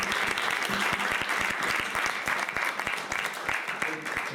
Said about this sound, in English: I want you all to applaud to Ganesh Yampriya for.